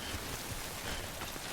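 Rain in the video game Death Stranding falls as a dense, even hiss of drops filling the scene, steady and moderately loud with no voices.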